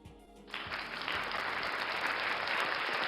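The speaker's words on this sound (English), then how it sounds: "Let us all welcome her with a virtual round of applause." Round of applause at a webinar on gender inclusion and safe spaces, starting abruptly after a brief quiet moment and continuing as a steady, fairly close wash of clapping to the end.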